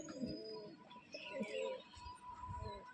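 An old-line generation male pigeon at a pigeon seller's coos softly in short, low, throaty bursts, faint and mixed with background clatter and other bird sounds.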